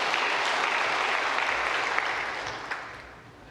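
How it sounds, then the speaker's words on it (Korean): Congregation applause fills a Sunday church worship service, a dense sustained wash of clapping that stays loud, then gradually thins and fades toward the end. "우리 하나님 앞에 영광의 박수."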